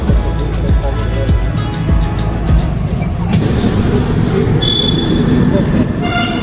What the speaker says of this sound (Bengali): এই যে সেই টয় ট্রেন